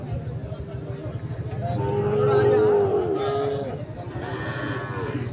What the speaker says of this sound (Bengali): আমবাড়ি হাটের যে সাইওয়াল জাতের বাছুর গরুগুলো রয়েছে